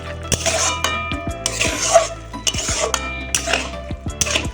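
Shrimp and taro greens are stirred in a metal pot. A spoon scrapes and clanks against the pot in a quick, repeated rhythm, close and fairly loud, with no talking.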